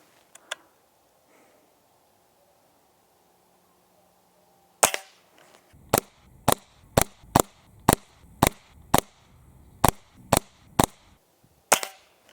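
A Hatsan Model 25 Supercharger air pistol in .177 fires pellets outdoors by a field, a loud sharp crack followed by a quick string of about a dozen evenly spaced shots after a quiet pause.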